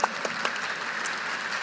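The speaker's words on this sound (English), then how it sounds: "I'm going to start the clap on that one." Audience at a keynote talk in Edmonton, Canada clapping steadily, a dense continuous wash of applause with a few sharper individual claps standing out near the start.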